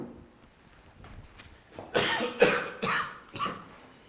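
A man coughs in a series of harsh, fairly close bursts of a smoker's cough, about four of them, after quieter shuffling sounds.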